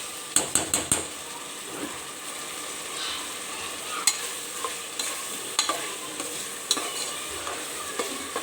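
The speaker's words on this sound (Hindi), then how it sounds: "और हम इसको अच्छे से फ्राई कर लेंगे।" Potatoes fry in a pan with a soft steady sizzle, punctuated by sharp clinks and taps of a metal spoon against the pan as they are stirred, close and without talk.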